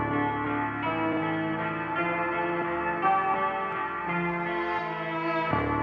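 A sustained violin part of just two notes plays over a looped sample chopped from a record bought in Osaka, all built on an MPC One: a dense, bell-like bed of steady, continuous tones, moderately loud throughout, with no talking.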